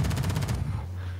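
Rapid automatic gunfire in the Warzone video game, a quick burst of shots close and loud, then cutting off into a low hum.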